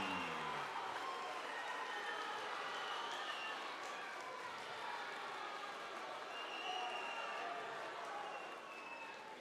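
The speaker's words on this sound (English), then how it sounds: "please keep the applause going for silver medalist Peter Oswald" Sustained applause from a crowd at a boxing championship final, steady dense clapping filling the whole stretch with a faint murmur of voices underneath, fading slightly at the end.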